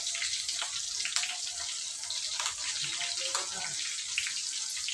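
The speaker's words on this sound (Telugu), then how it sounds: "ఇంక ఇప్పుడైతే నూనె వేడైంది కదా, ఉల్లిగడ్డ, అలాగే జీలకర్ర ఆవాలు" Onion with cumin and mustard seeds frying in hot oil for a cabbage fry, a steady hissing sizzle with small crackles, heard close, with someone talking over it.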